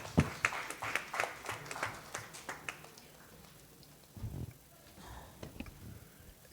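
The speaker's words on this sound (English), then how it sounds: "please welcome our speaker with a round of applause" Applause in a conference hall at a women's cardiac care conference, with scattered, fairly faint claps through the first few seconds that then thin out into quieter room noise and brief low murmurs.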